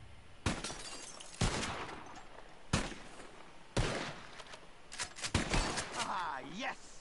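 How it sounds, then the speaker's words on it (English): Gunshots at a shooting range in a video game: sharp, loud single cracks fired at irregular intervals, with a glassy ringing tail near the end. "Just draw your gun and aim when you're ready, all right? Shoot!"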